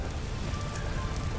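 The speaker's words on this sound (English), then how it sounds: "yes of course, it's raining, isn't it?" Steady rainfall in the survival game Vintage Story, a continuous hiss of drops pattering on the ground with a low rumble underneath, even and unbroken throughout.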